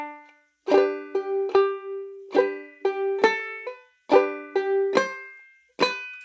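A clawhammer ukulele plays two measures of the folk tune "Bury Me Beneath the Willow", a steady sequence of bright plucked notes and brushed strums, close and clean, each ringing briefly before the next.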